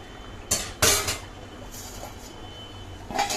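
Metal lid set back onto a cooking pot of simmering meat and potato curry, two quick clanks with a short pause between and a fainter rattle near the end, close and clear over quiet kitchen background.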